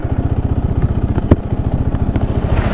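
A KTM 390 Adventure motorcycle comes to a stop and idles, its single-cylinder engine thumping in an even, rapid low pulse, close and steady.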